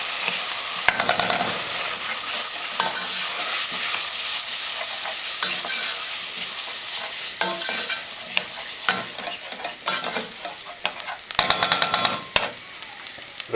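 Couscous being stirred in a pan of hot oil with softened onions, a steady sizzle broken by scraping spoon strokes and a few sharp clatters near the end.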